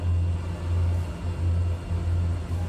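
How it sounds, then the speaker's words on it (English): Loud, steady engine drone from an iniBuilds F406 Caravan II twin turboprop in Microsoft Flight Simulator, a deep rumbling hum that swells and dips slightly in a slow pulsing rhythm, with no talk. "The engines are extremely loud, as you can tell."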